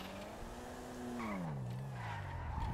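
Cars drag racing in GTA Online: an engine revs up in a rising, falling whine with gear changes, joined by tire squeal, loud and close with no talking.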